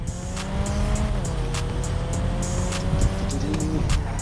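Car engine revving with long tire squeals while driving in GTA Online, steady and close throughout with repeated sharp skid screeches and no talking.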